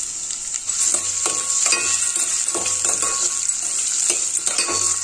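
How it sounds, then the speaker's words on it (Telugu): Carrot pieces sizzle in a pan with ginger, green chili and curry leaves for an aloo puri curry, a bright continuous frying hiss broken by repeated spatula scrapes and stirs. "క్యారెట్ కూడా బాగా ఫ్రై అయిందండి."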